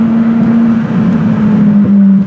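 Ferrari Challenge race car idling at a stoplight on a public street, a loud, steady, close engine drone with a strong low hum and slight fluctuations, ending abruptly.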